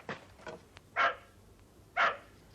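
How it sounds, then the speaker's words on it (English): A dog barks in a countryside setting: several sharp barks, two fainter ones followed by two louder, nearer barks about a second apart, with no talk over them. "Keep that dog under control,"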